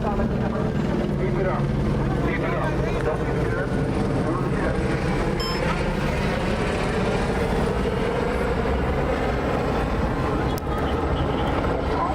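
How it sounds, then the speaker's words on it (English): A continuous low helicopter rotor drone throbs steadily overhead throughout, with people talking faintly under it at night in Los Angeles. "Are you guys hearing that from the helicopter?"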